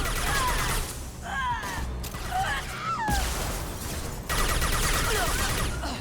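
Rapid bursts of SMG fire from the video game Mass Effect 2, loud and close, stopping and starting in dense volleys alongside mechanical clatter and whistling weapon effects, with a person talking over it.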